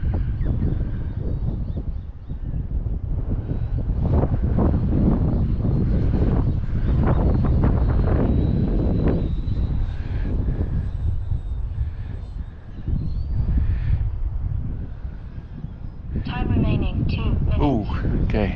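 Small XFly Swift RC plane motor whining and surging with throttle changes while strong wind buffets the microphone in steady roaring gusts, with a voice talking over it.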